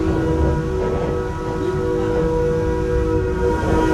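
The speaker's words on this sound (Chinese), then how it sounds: "前面车头一直发出那种呜呜的声音" A train horn sounds one long, steady hoot throughout, loud and close, over the constant rumble of the moving train.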